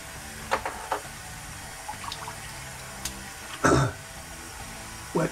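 Cold water running briefly from a bathroom tap during a wet shave, short splashy bursts with a cough and throat clearing in a quiet room.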